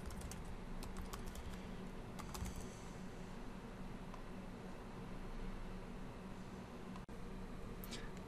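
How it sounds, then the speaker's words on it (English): Keystrokes on a computer keyboard, including backspace presses, click faintly and sparsely over a steady background hiss, with a small cluster of taps early on and one sharp click near the end. "simply press backspace on your keyboard"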